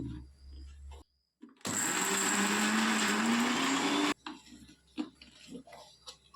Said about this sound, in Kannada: ಇದನ್ನು ಸ್ವಲ್ಪ ನಾನು ಮಿಕ್ಸಿ ಜಾರಿಗೆ ಸೇರಿಸ್ಕೊಳ್ತಿದ್ದೀನಿ. ಸ್ವಲ್ಪ ಸೇರಿಸ್ಕೊಂಡು ರುಬ್ಕೋಬೇಕಾಗತ್ತೆ.